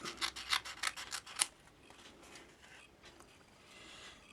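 Scissors snip through fabric between two rows of stitches in a quick run of about six crisp, close cuts, then a quieter stretch of faint rustling.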